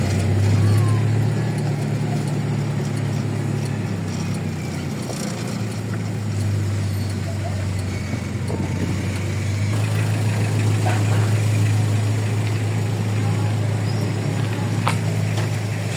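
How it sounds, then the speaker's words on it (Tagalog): A car engine idling in traffic, a steady low hum held for the whole stretch with faint surrounding street noise and occasional low voices. "Traffic talaga."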